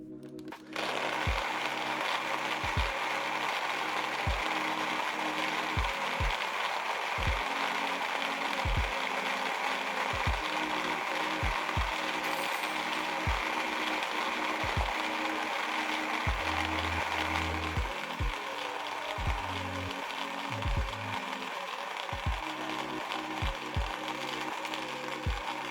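A Timemore Grinder Go electric coffee grinder grinding beans, giving a continuous whirring motor with a ratcheting, gear-like crunch that carries steadily up close and fairly loud throughout.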